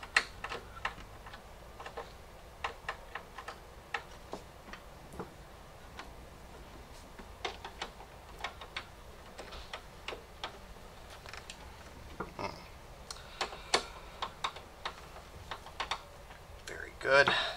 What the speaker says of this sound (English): then we're ready to tighten these screws back down